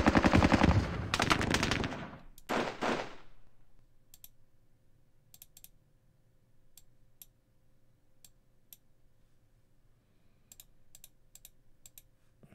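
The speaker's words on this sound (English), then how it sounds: "all of you can shoot at that guy on the left" Small-arms and machine-gun fire in a Falklands war strategy game covering a British night assault on Wireless Ridge, a heavy loud burst at the start, then scattered sharp single reports over a quiet background hum.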